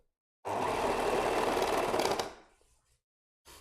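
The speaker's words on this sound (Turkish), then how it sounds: "Şuraya dikişlere denk getiriyorum ve çekerek yine onu da overlock'ta dikiyorum." An overlock serger runs in one continuous, fairly loud burst while stitching along the seams of a child's tracksuit, then slows and stops, followed by a brief second start at the end; no talking.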